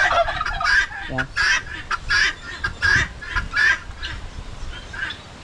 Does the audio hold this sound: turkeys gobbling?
yes